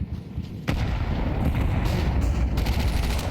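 A grenade goes off in Counter-Strike: a sudden loud, deep blast that rolls into a sustained rumbling roar and stays heavy to the end.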